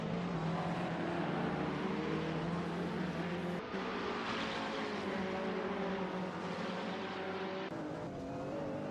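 Several race cars in a Gran Turismo race at Bahrain, including Lamborghinis, Ferraris and McLarens, with steady loud engine drone and layered harmonic whine throughout, briefly dipping twice as the pack runs close together.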